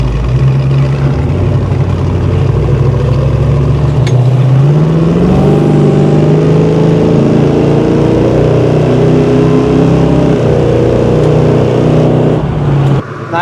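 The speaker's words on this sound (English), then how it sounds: "Nice aftermarket dual exhaust. It sounds really good." A 1973 Dodge Charger Rallye with aftermarket dual exhaust idles with a deep, steady rumble, then revs up and holds a higher drone before dropping back, loud and close with no voices.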